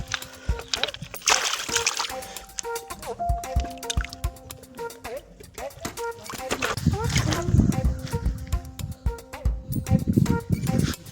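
River water being churned and splashed by hand to stun fish, with irregular sloshing and splattering bursts, heavier toward the end, under a voice talking throughout.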